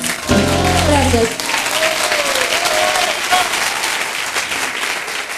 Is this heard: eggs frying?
no